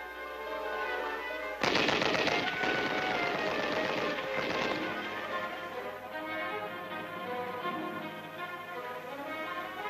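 Infantry weapons training with rifles and machine guns: a sudden loud burst of rapid gunfire breaks in after a quiet start, rattles for about three seconds, then fades into a lingering rumble and softer scattered shots, heard from a moderate distance.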